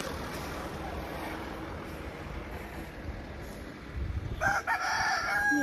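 A rooster crows near the end, a bright harmonic call standing out over steady outdoor background noise.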